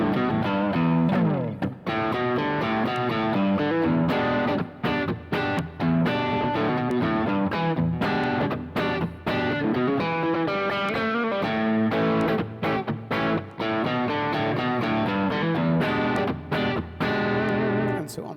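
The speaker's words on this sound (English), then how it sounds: "Here's a little bit of tube screamer style distortion, and actually really suits the blues sound." A Westone Pantera X390 electric guitar plays bluesy lines through tube-screamer style overdrive distortion. The sustained, gritty chords and notes ring continuously and fairly loud, with only brief gaps between phrases.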